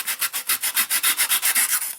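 A small hand saw cuts through foam in quick, even back-and-forth strokes, about a dozen rhythmic rasping passes close up, with no talking.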